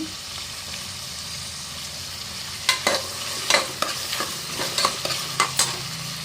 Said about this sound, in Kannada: ಫ್ರೈ ಮಾಡ್ಕೊಳ್ಳೋಣ ಹಸಿಮೆಣಸಿನ್ಕಾಯಿ